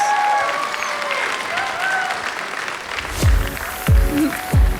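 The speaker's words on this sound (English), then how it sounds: "How about another round of applause for all of our beautiful contestants as they head backstage." Audience applause and cheering for beauty pageant contestants leaving the stage at a Miss Hooters International event in Lake Tahoe, sustained clapping in a large room, with a voice over it and deep booming thumps toward the end.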